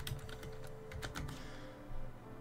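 Someone types a password on a computer keyboard while setting up a game server, a quick close run of light key clicks ending in a couple of firmer presses over steady background hum.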